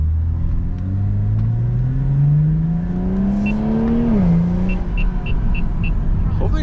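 A BMW M340 heard from the rear, its engine note rising steadily as it accelerates, then easing off, with a continuous exhaust rumble and turbo whir, loud and close.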